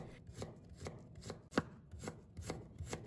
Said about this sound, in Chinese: 先将它切成片， 再切成姜丝。